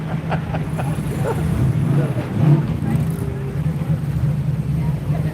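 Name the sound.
cars driving past at a rally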